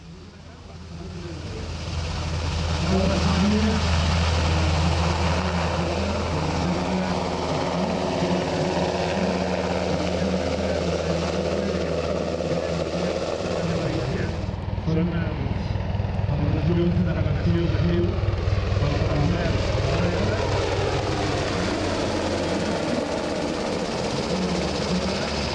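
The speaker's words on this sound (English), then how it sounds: "the Spanish Army NH-90 Cayman performed its solo display during the sunset on Saturday" A Spanish Army NH-90 Cayman military helicopter flies a solo display at an air show at sunset, its loud, steady rotor and turbine roar changing pitch as it passes and manoeuvres, with crowd chatter faint underneath.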